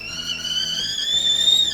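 A kettle heating water for British tea whistles with a steady, piercing high tone that holds for the whole moment, rising slightly before it cuts off.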